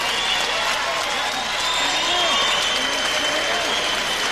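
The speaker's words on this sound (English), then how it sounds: "may we have a nice round of applause for both of these fighters" A crowd applauds steadily at a boxing match, with the clapping partly mixed with an announcer's voice and cheering in a large hall.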